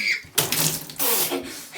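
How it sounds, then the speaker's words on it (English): Log flume boat on Splash Mountain at Walt Disney World hitting the water, a sudden loud whooshing splash followed by a second surge of spraying water, short and close. "ready for the splash?"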